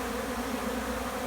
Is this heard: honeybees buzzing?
yes